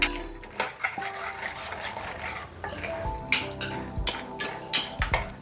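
Peanuts are stirred in hot oil in a pan, with repeated metallic scrapes and clinks of a utensil against the pan at irregular intervals, close and distinct, with no talking.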